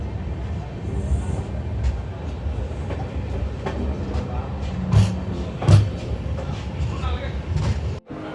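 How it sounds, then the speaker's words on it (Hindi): A train at Sairang railway station in Mizoram rumbles nearby with low, uneven rolling noise, a few heavier clunks and swells, and a brief sharp drop near the end. "हम पहुंच चुके हैं सैरांग स्टेशन।"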